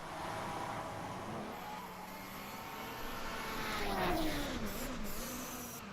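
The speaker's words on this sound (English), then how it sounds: "So you can hear that the spooling up of the turbo of the BMW E21." BMW E21 Group 5 race car at the Nürburgring, its turbo whistle rising as it spools up over steady engine noise, heard from a distance at low level and swelling toward the end.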